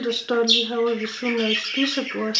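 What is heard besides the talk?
pet budgerigars chattering and squawking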